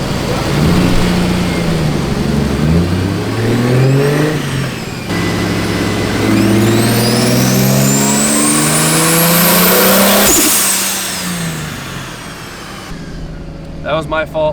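A car with a swapped, turbocharged engine revs hard on a dyno, rising through loud sweeping pulls with whining harmonics before easing off, while people talk nearby.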